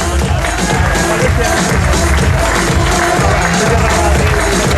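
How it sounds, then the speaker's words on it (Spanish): A crowd at a Zumba event in Azkoitia breaks into loud, continuous applause and cheering, close and dense, with clapping and shouts filling the whole stretch. "Para aquí viene el aplauso, eso es."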